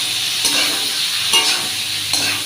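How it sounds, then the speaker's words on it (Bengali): Carrot, capsicum, onion and chilli sizzle steadily in a hot pan while being cooked for chilli chicken, a continuous close frying hiss with a few brief stirring scrapes. "এটাকে ভেজে নেব।"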